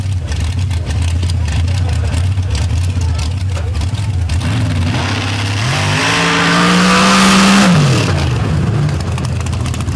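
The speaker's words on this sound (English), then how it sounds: "Using all of the horsepower in that massive 959 cubic inch Billy Albert tuned race engine" A nitrous drag race car with a 959 cubic inch race engine launches at a drag strip. Its loud engine roar sweeps up in pitch, peaks, then drops away as it pulls off, with a commentator talking over it.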